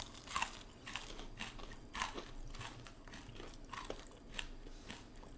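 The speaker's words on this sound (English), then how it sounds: "I feel like these are so dry but crunchy." Close, crisp crunching and biting of dry fried chicken, with irregular sharp crunches repeating steadily through the clip and no voices.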